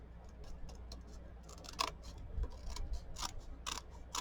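Scissors snip through journal pages while trimming excess paper from a handmade friend's journal, a few close, crisp cuts spaced out over a quiet room.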